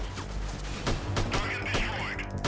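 Rapid gunfire in the video game S5 Freeman Guerrilla Warfare, with the player taking hits in a forest firefight: dense, repeated sharp shots layered over a loud, continuous rumble, with no voices.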